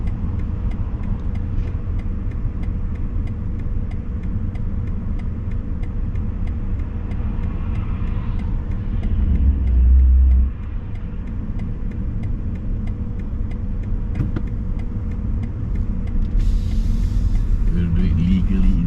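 BMW iX electric car driving, a steady low road rumble and tyre hum throughout, with people talking over it inside the cabin.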